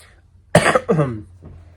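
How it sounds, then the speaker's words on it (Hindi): Two rough, close coughs, one right after the other, then a faint breath trailing off. "थोड़ी खांसी ना ज़्यादा हो रखी है"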